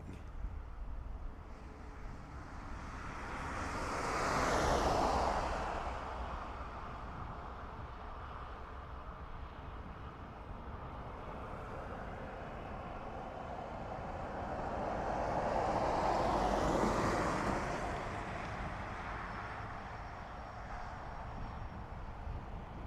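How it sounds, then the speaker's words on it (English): An Airbus A320 comes in to land at Dublin Airport, arriving from Munich, with a distant jet roar swelling and fading twice in long, smooth passes over a low background hum. "it's followed by an A320 EI DVE that's coming in from Munich"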